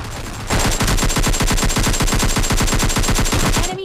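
Sustained rapid automatic gunfire from the mobile game PUBG Mobile Lite, a loud, steady burst of evenly spaced shots lasting over three seconds before cutting off abruptly.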